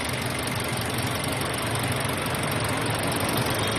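The engine of a 2019 Toyota Avanza idles during an oil flush, a loud, steady, close-up mechanical drone with an even rattle and no talk over it.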